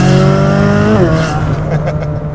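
A Chevrolet Corvette C8 Z06 pulls hard under acceleration, its loud engine note rising in pitch, then dropping sharply at a gear change before climbing again, heard from close by.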